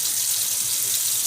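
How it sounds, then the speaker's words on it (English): Tap water pours steadily into a pot on the stove while cooking vegan pasteles filling, a continuous close hiss with no talking. "just going to add some water in here."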